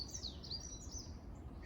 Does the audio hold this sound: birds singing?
yes